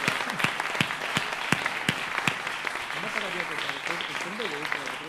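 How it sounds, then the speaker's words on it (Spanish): Audience applause at a live poetry and spoken-word event, a few sharp individual claps at first that swell into general clapping, with a person speaking over the latter half. "Muy bien, aplauso, aplauso."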